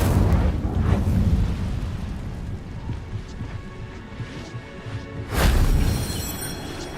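Incendio fire spell cast in Hogwarts Legacy, a loud fiery whoosh and crackling burst that settles into a rumbling roar, then a second sharp blast flares up near the end.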